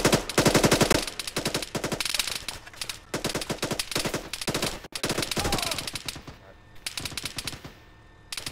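Bursts of automatic rifle and machine-gun fire in the Arma 3 USMC co-op mission, rapid rattling volleys and single sharp shots at varying distances, loud and repeated with short gaps between them.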